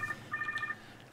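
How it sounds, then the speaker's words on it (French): Inside a dinosaur in the park-building game Jurassic World Evolution 2, a phone sounds in a quick run of short electronic tone pulses, faint and brief against a low rumble. "Pourquoi il y aurait un téléphone qui sonne dans le jeu?"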